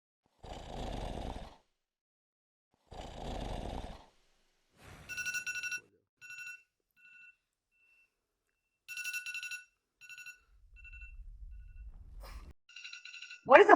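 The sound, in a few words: morning phone alarm ringing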